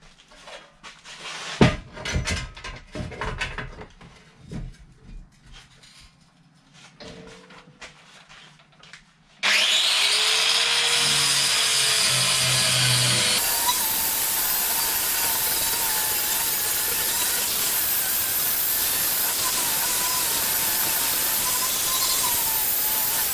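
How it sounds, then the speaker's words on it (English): Scattered knocks and handling noises give way to a flap disc on an angle grinder grinding a metal bash plate for a Suzuki V-Strom motorcycle, a loud, sustained rasping whine close by that holds steady to the end. "Cleans up pretty good with the old flappy disc."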